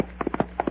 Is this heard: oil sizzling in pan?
no